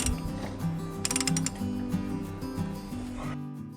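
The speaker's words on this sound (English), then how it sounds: "I can quickly and easily install it using a ratchet and a 24mm socket." A ratchet with a 24mm socket turns the oil filter cap on a Jeep Wrangler 3.6L Pentastar engine, giving a rapid series of close mechanical clicks and rattles that stop near the end.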